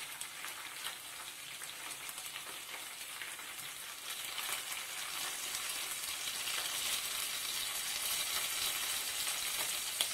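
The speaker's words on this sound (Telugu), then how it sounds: "ఇవన్నీ కొంచెం బాగా ఫ్రై అవ్వాలి" Fenugreek leaves and coriander frying in a pan for egg fried rice, a soft, continuous crackling sizzle that grows slightly louder over ten seconds, with no voices.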